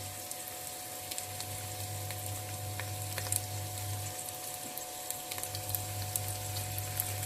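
Sausages sizzle steadily in a frying pan as spices are poured over them, a continuous close crackle and hiss with small pops and a low hum running underneath.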